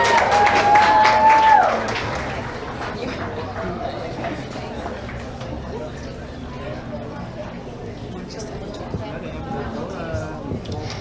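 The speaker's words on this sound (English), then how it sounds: "So big cheer for Andrea" Guests at a wedding reception applaud and cheer for the matron of honor, a loud burst of clapping at first that settles into a lighter patter of claps, with talk and crowd noise continuing underneath.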